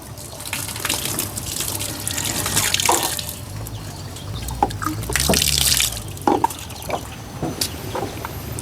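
Water pours and gushes continuously, with splashy surges and occasional drips and clunks nearby, no voices over it.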